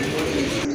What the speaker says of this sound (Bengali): এটা কিন্তু আপনার খুবই সুন্দর এক জোড়া কবুতর